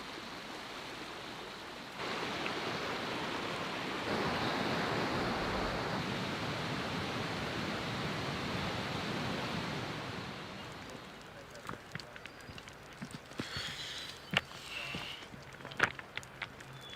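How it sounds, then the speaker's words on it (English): A distant waterfall on a hiking trail gives a steady broadband rush that holds for about ten seconds, then fades under scattered footsteps, clicks and voices of hikers talking. "I can hear the waterfall."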